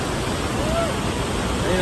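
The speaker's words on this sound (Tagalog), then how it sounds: "Top view, Rhine Falls." Rhine Falls at Schaffhausen, Switzerland, roars as a steady broadband rush of falling water heard from above, with faint voices beneath the noise.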